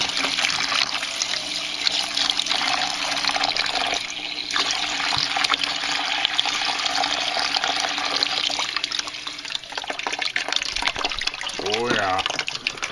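Water pours steadily into a snail aquaponics tank, a loud, continuous rushing splash that fills the whole stretch, with a voice briefly speaking near the end.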